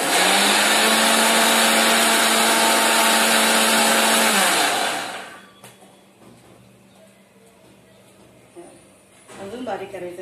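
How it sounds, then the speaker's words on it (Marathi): A kitchen mixer grinder whirs loudly and steadily while grinding a spice paste with water and turmeric for Malvani rice noodles, then stops abruptly, leaving a quiet room with a few faint knocks. "आता याच्यात पाणी टाकून हे मिक्सरला चांगलं वाटून घेऊया।"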